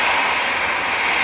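An easyJet Airbus A320 jet departs Manchester Airport, a loud, close, continuous engine roar with a strong hissing high end, steady and unbroken for the whole short stretch.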